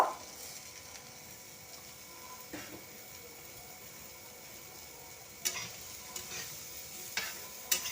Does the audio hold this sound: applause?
no